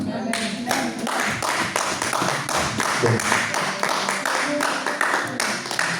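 A church congregation at a French-language worship service in Toulouse claps steadily in a fast, even rhythm, loud and close, to acclaim the Lord.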